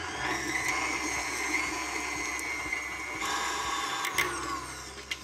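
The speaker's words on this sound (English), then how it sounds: "So I'm gonna add into a mixer about 3 tablespoons of butter and 2 ounces of cream cheese that is softened." Stand mixer creaming softened butter and cream cheese for a honey carrot cake, a steady close whirring motor drone that runs throughout with a brief dip near the end.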